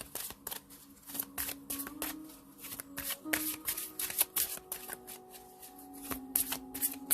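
Tarot cards being shuffled for a reading, a quiet close-up run of riffling, flicking card noises with faint tones in the background.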